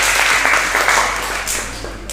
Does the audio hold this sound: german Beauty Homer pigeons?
no